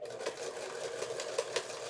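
Sewing machine stitching drapery panels, running steadily with a fast, even mechanical whir and faint repeating ticks, close and alone.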